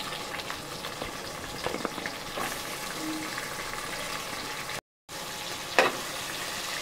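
Cumin, dried red chillies and curry leaves fry in hot oil, giving a soft, steady sizzle close by with occasional clinks of stirring, and a brief cut of silence near the end.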